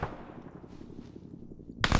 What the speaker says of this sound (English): Fuck, he's shooting at me now.